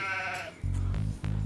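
Male goat giving a single wavering bleat, close and fairly loud, followed by a low steady hum in the background.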